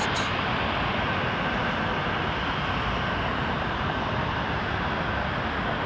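An RJ900 regional jet lines up on the runway at Toronto Pearson Airport, its engines giving a steady, broad roar with no change in level, heard alone without talk.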